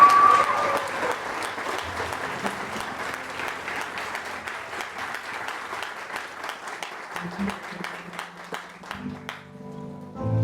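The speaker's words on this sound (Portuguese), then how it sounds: "Por isso pode aplaudir para valer a Virgem Maria." An audience at a religious talk on the rosary claps for the Virgin Mary, giving sustained, even applause from a crowd for about ten seconds that thins and drops away near the end.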